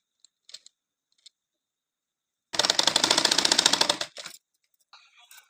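A sewing machine stitches blouse fabric in one steady, close run of about a second and a half, with a short second burst after it and faint clicks and handling noises around it.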